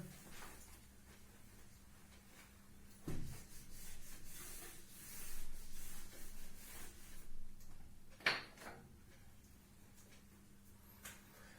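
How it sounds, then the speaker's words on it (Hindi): Writing rubbed off a board in a chemistry classroom: a quiet stretch, then several seconds of steady scrubbing strokes in uneven bursts, one sharp knock, and fading rubs. "तो इसे रब कर देता हूं मैं।"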